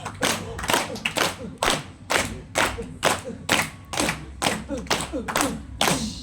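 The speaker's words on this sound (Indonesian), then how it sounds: "Kasih tepuk tangan dong" Workshop audience clapping in unison, about a dozen sharp group claps in a steady rhythm with a low thump under each, close and fairly loud, with voices calling out between them.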